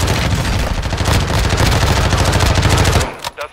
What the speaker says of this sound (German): von rechts wird auch irgendwo noch geschossen, habe ich Schüsse gehört